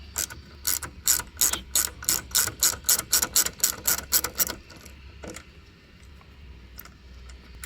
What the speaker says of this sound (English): to take off the mirrors, you're gonna use a T27, and there's 3 bolts on here.